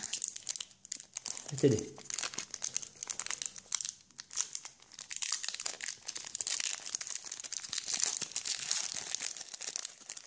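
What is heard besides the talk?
plastic blister pack of Pokémon cards being torn open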